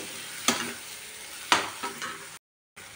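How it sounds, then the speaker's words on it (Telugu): Tomato, green chilli and onion fry in a pan for puffed rice upma, a close, steady sizzle broken by a few scraping stirs of a spoon, then a brief silent gap. "ఇప్పుడు టమాటా, పచ్చిమిర్చి, ఉల్లిపాయ కూడా వేగింది."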